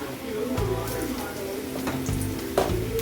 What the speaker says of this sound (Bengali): তেলটা একটু নেড়ে ছেড়ে আলুগুলো দিয়ে দিচ্ছি ভাজার জন্য।